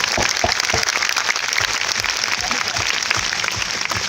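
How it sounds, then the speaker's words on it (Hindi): Audience members at a company meeting clap for the directors, a dense, continuous patter of many hands at moderate level with scattered sharper claps standing out. "तो मैं एक बार चाहूंगा हमारे सभी डायरेक्टर सर के लिए जोरदार ताली होना चाहिए दोस्तों, ताली जोरदार।"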